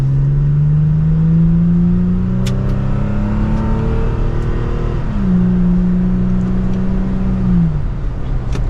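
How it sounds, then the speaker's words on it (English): A 2023 Toyota Tacoma TRD Pro pickup's engine revs up in a rising drone in second gear, dips briefly as the gear changes, then climbs again, loud and close. "we will pop it down into 2nd gear using the shifter now, and let's give it some gas"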